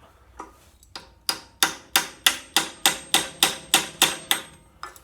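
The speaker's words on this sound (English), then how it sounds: "It's my little flower hammer. It goes bam, bam." Small flower hammer striking metal on a rusty old tiller: about a dozen sharp, ringing metallic taps in a steady, quick rhythm, close and clear with no talking.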